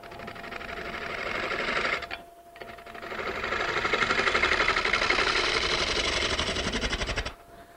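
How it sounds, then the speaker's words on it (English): Wood lathe turning furniture stock with a bowl gouge, a steady close whirring cut with grainy scraping texture that pauses briefly near two seconds and then runs on continuously until it stops near the end. "now I'm going to switch back to my bowl gouge, or my fingernail gouge"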